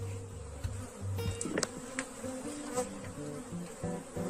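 Honey bees buzz around an open beehive during hive handling. The dense, steady hum is close and moderately loud, with a few soft knocks and handling noises and no talking.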